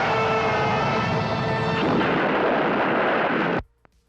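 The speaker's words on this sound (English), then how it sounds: "we get the lamest explosion special effect in the history of cinema" A loud, sustained explosion effect from a Gamera monster film, set where Gamera collides with Xanon: dense roaring blast noise for about three and a half seconds that cuts off abruptly, followed by near silence and a faint click.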